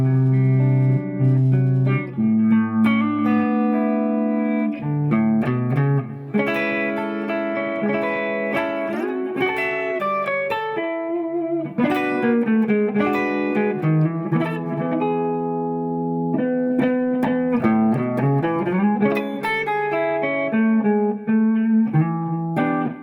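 Clean electric guitar through an Odysseus preamp on a jazz EQ setting with delay, playing a continuous melodic line of sustained chords and single notes alone for over twenty seconds, steady and fairly loud.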